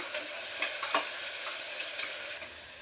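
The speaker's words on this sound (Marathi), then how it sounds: "कांदा टमाटा चांगला परतलाय" Chopped onion and tomato sauté in a pan with coriander, a steady close sizzle broken by repeated scraping strokes of a spatula against the metal.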